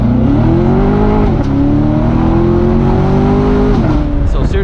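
A 2016 Chevrolet Corvette C7 Stingray convertible accelerates hard with a loud, rising exhaust note that climbs through a gear change. It is heard close up from the cabin, continuous and dominant throughout.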